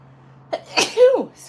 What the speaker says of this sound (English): Uh-oh, I'm gonna sneeze.